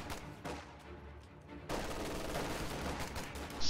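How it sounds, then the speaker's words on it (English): Sniper rifle and infantry gunfire in a Company of Heroes-style strategy battle, with scattered shots and a dense burst of battle noise swelling midway, steady and moderately loud, no talk. "Sniper firing on riflemen in the center."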